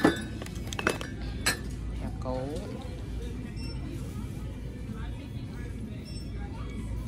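Ceramic mugs clink against each other as they are picked up and handled on a shop shelf, with a few sharp knocks near the start over a low background hum. Someone talks quietly in the background.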